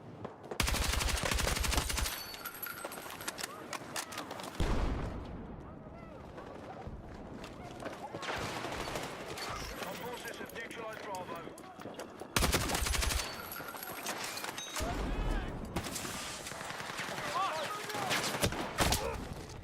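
Dense, continuous gunfire and explosive bursts from a Battlefield 6 match played on PC, loud throughout with louder clusters of shots near the start and around the middle, with no talk over it.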